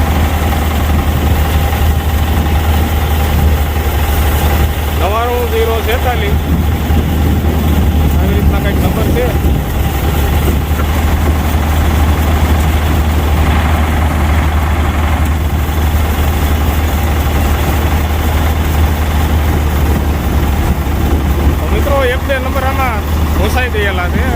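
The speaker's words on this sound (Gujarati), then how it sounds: "જે ઓટોમેટિક છે થેસરનું નામ છે પ્રમુખ માન એગ્રી થેસર" A Pramukh Man Agri automatic groundnut thresher running steadily with a constant low engine drone and mechanical hum, continuous throughout with occasional faint clatter and brief background voices.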